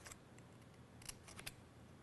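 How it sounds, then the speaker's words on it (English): Scissors cutting a triangle and teeth into paper for a lantern, a few quiet crisp snips in quick clusters against faint background hiss. "I'm cutting a larger triangle. And then I'm just going to cut"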